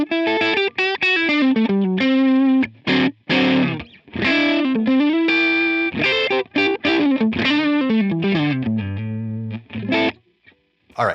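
Electric guitar through a Seymour Duncan neck single-coil pickup and the Line 6 POD Go Matchstick Channel 1 preset with delay off plays a dry, lightly overdriven phrase of choppy chords and single notes, close and alone.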